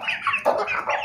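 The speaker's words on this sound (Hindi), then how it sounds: "तो ये हमारी मुर्गियाँ और उसके चूजे दोस्तों" A few hens with their chicks cluck close by in short, choppy bursts, several calls packed into about a second.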